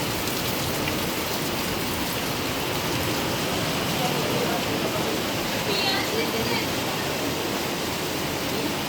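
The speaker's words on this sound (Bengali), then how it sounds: "ভালো জোরে বৃষ্টি হচ্ছে।" Heavy rain at the coast in Tajpur, a dense, even roar of falling water that fills the whole stretch at a steady level.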